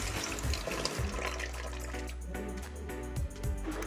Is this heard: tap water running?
yes